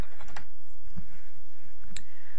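Mouse clicks and light keyboard tapping while placing text on a curved path in photo-editing software, a few sharp close clicks spaced across a quiet moment with no speech.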